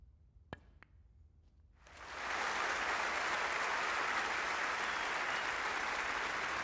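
A snooker crowd breaks into sustained applause for frame ball at a Betfred World Championship semi-final between Mark Williams and Mark Selby, swelling after a couple of sharp knocks and holding at a steady, dense roar.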